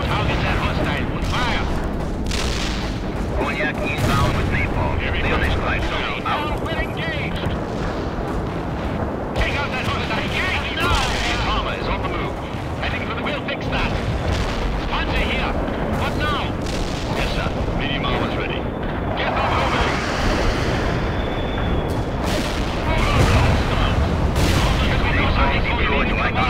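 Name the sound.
artillery and napalm fire from video game World in Conflict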